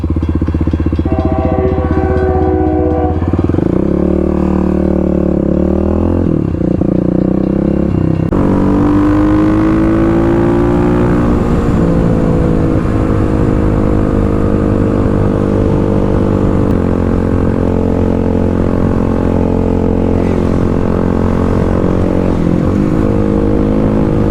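A motorcycle engine idles at a traffic light, then revs and pulls away, its tone climbing through the gears and fading gradually, loud and close, with no talk over it.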